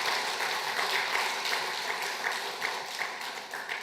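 Congregation applauding inside a church during an Easter Sunday service after a trio performance, a dense, steady wash of many hands clapping at moderate distance throughout.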